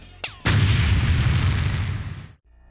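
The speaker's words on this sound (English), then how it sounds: "Kano uses the explosion to distract Sonya" Shot barrels explode in a comic-dub action scene: a sharp crack, then one loud, booming blast that roars and slowly fades over about two seconds before cutting off.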